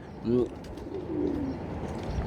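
Domestic pigeons coo in a soft, low, rolling burst near the start, then give a quieter second coo, with faint background noise throughout.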